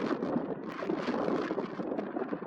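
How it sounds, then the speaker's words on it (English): Gusty wind at Hartsfield-Jackson airport in Atlanta buffets the microphone, a fluttering rushing roar that rises and falls in rapid gusts throughout. "The winds are becoming increasingly gusty"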